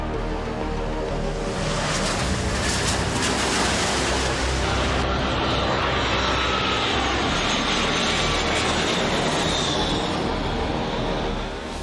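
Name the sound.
airplane flying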